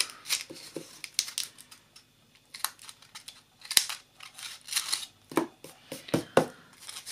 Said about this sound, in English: I didn't want that bottom part, so I'm going to cut it off